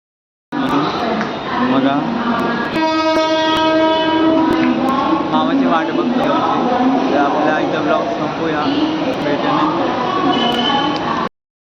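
A train horn sounds over the steady rumble of a train departing on the Konkan-to-Mumbai route, with people talking nearby throughout.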